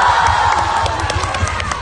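An audience at a film roadshow event cheers and claps, a loud crowd roar with whoops that carries on steadily across the short stretch.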